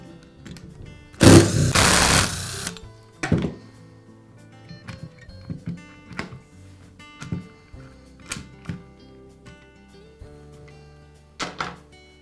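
Plastic clicks and hollow knocks from one half of a Makita disc sander's housing being taken off, opening with a loud rustling scrape, then scattered sharp taps and thunks at close range with quiet gaps and no talking.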